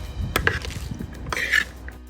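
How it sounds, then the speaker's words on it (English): Utensils clatter and scrape against a bowl as a tangy cabbage salad with lime juice is tossed together, a series of close, uneven clinks and rustles with no talking. "just mix it all well together"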